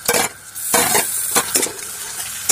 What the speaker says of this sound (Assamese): আদা নহৰু পেষ্টৰ লগত ধুনীয়াকৈ এইখিনি ভাজি লওঁ